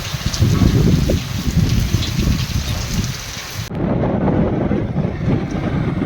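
Heavy rain pours steadily in a village during a downpour, a loud close roar of drops on surfaces with wind buffeting the microphone and a brief dip partway through, no voices.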